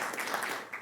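Brief, dense applause from a city council meeting audience honoring the planning team's award, a short burst of many hands clapping at moderate distance.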